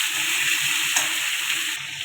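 Papaya, potato and fish curry stirred in a pan gives a steady bright sizzle with soft scraping underneath, close and continuous, with a single brief clink near the middle and no voices.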